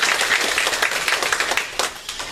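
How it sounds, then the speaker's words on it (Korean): Church congregation at a Sunday service applauding together, a dense, steady round of clapping throughout, close and fairly loud. "우리 큰 격려의 박수 하도록 하겠습니다."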